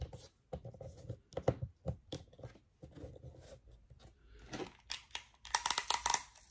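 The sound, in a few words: transparent tape being pulled and applied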